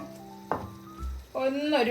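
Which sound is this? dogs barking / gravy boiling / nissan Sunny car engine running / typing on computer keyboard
gravy boiling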